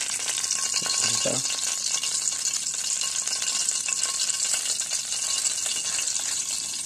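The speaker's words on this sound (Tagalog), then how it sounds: "Luto na lahat yung isda natin na prinito." Freshly caught fish fry in a pan with a loud, steady sizzle that holds from start to finish, and someone says a brief word early on.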